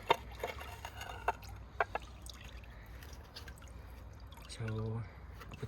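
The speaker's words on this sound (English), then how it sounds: "It is draining now." Water drains from a container after repotting a plant, with soft drips and a brief trickle, faint and close by.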